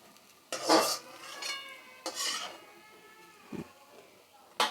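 Sesame fritters cook in oil with a soft sizzle beneath clattering spoon-against-pan stirring, several loud metallic knocks spaced a second or more apart, and a brief voice.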